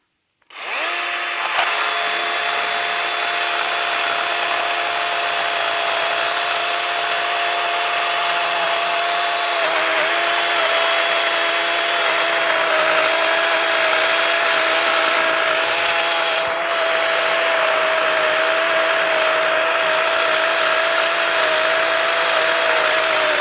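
A DeWalt 60V 20-inch battery chainsaw runs at a steady high whine while cutting wood in one continuous pass, loud and close throughout, with a brief dip in pitch partway through.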